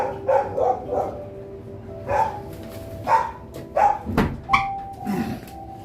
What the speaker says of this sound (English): that was real background noises from the dogs